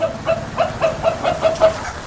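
Free-range village chickens in a farm shed area give a quick run of about eight evenly spaced clucks close by, steady and rhythmic with no talk.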